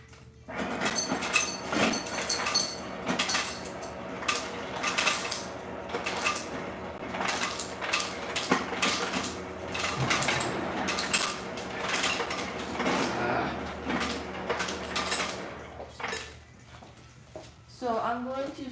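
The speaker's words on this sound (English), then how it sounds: "gotta get a smaller bowl out because none of the bowls fit in the ice dispenser" Bowls and dishes clatter and clink in a home kitchen during birthday cake baking, with repeated close knocks and scrapes running throughout as a person talks over them.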